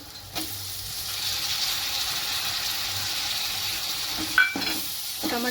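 Spiced masala and finely chopped tomatoes for chicken biryani being stirred in a hot pan, a soft continuous sizzle with spoon scrapes and a couple of sharper clinks near the end.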